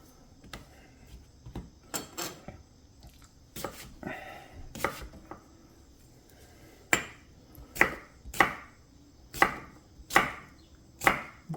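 Vegetables are chopped on a cutting board with a knife for a 3-pound beef roast going into a crock pot, first as scattered uneven cuts and then as a run of sharp, steady, close chops.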